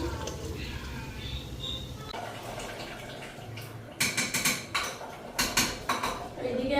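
Pots and a lid clatter on a wok as meat is covered during home cooking, with soft handling noise first and then a burst of sharp metallic clanks near the end, under occasional talk.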